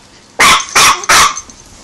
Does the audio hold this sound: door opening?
no